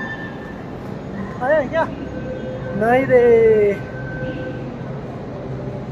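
A metro train moves through a station with a steady rumble and rising and falling whines, while a person talks nearby.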